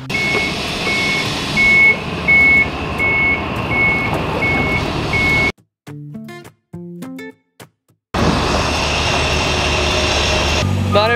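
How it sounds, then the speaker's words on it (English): A big delivery truck arrives at a rural homestead, its engine rumbling loudly while steady, evenly spaced reversing beeps sound throughout, broken by a short quieter stretch in which people talk. "Not every day that we get a big delivery truck here"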